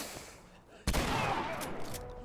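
An enemy's gun fires in The Last of Us Remastered, one sharp loud shot followed by a sustained burst of gunfire and clattering with a few further cracks; no talk over it.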